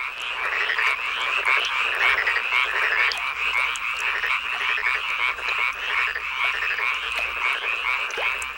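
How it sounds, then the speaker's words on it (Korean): A dense, loud chorus of frogs croaks without pause across a rice paddy, many overlapping calls forming a constant pulsing din. "논이 개구리의 울음소리로 요란하다"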